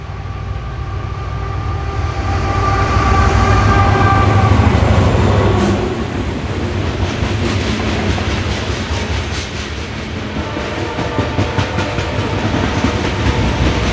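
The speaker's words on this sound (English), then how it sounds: "So I believe this train is full of Kentucky coal heading south through Knoxville" Freight train loaded with Kentucky coal rolling through Knoxville, a loud, close, continuous rumble of wheels and cars with steady clickety-clack, swelling early and then holding as the wagons pass.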